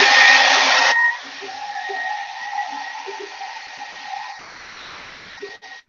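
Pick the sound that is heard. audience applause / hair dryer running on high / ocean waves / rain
hair dryer running on high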